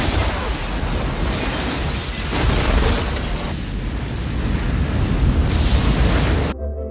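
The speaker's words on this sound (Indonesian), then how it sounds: "kapal alien menembakkan sinar laser dengan daya hancur setara nuklir" A long, loud roaring film explosion from an alien laser blast in Independence Day rumbles continuously with heavy low-end and crackling debris, then cuts off abruptly at the end.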